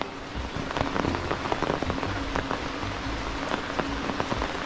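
Rain falling onto a surface, a steady, dense patter with scattered sharper drops and splashes, fairly close and continuous, with no speech.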